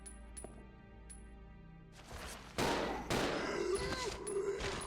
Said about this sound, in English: Empty the full clip for 3 zombies.